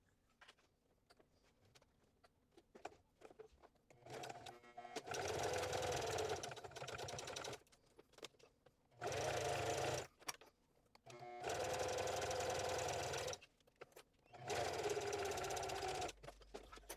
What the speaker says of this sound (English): So now I'm going to sew from this point.